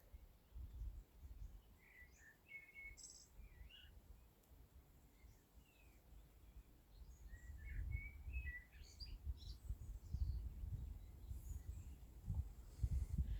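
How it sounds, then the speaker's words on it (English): Several birds chirp and sing in short, scattered phrases from trees in a nature reserve on a May day, against a quiet outdoor background with low rumbling gusts. "just listening to the trees and the birds"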